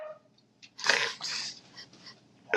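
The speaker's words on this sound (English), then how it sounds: "Dog." A dog gives a few snuffly, breathy bursts, like sniffs or a soft sneeze, with short pauses between them, fairly close and moderately loud.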